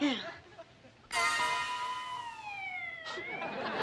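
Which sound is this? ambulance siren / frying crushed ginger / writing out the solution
ambulance siren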